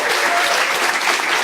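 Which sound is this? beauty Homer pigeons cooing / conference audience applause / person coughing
conference audience applause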